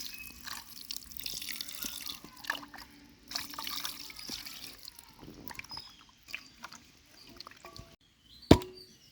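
Chicken pieces are washed with turmeric in water, with close splashing, trickling and dripping in uneven bursts, quiet between movements, and a sharp clank near the end.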